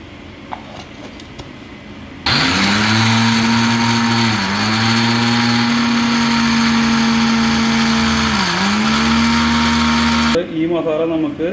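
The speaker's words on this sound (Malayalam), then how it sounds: "ഇനി ഇത് നമുക്ക് മിക്സിയുടെ ജാറിലിട്ട് നന്നായി പൊടിച്ചെടുക്കാം." A mixer grinder whirs loudly and continuously as masala is ground in its jar, with the motor pitch dipping twice under load before it cuts off after about eight seconds.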